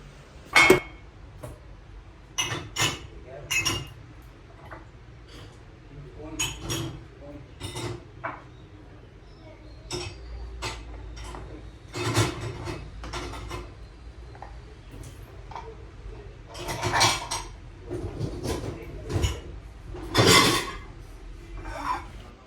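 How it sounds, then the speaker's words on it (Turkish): Dirty dishes are loaded into a home dishwasher: a long run of scattered clinks and clatters of plates, glasses and cutlery, some sharp and close, with quiet rattling between. "Ben de bulaşıkları makineye atayım."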